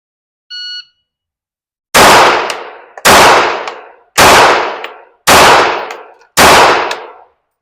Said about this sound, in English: 4 of the shots are in a 3/4 inch spot, and 1 of them was a little to the right.